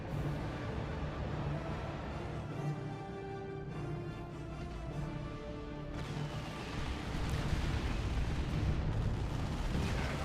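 Tank Buster rockets exploding in Dawn of War II: Retribution during a team tournament battle, a dense continuous roar of blasts and artillery-like rumble with a louder, harsher surge in the second half, no speech.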